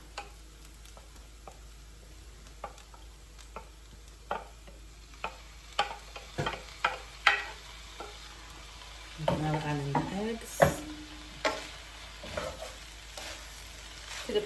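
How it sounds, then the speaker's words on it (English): Shrimp dropped into a hot pan for white fried rice, with scattered clicks and stirring scrapes giving way to a brief louder sizzle burst near the middle, then more intermittent ticks and utensil taps. "I'm going to go in now and add in our shrimp"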